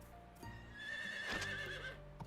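Horse whinnying in the video game Story of Seasons: Pioneers of Olive Town, one drawn-out, wavering neigh swelling loud in the middle over soft background music, no talking.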